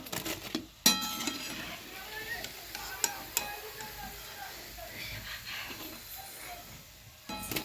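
Bhaji fritters frying in oil over a lowered gas flame, a soft, fairly quiet sizzle with occasional sharp clinks of a utensil against the pan, no speech.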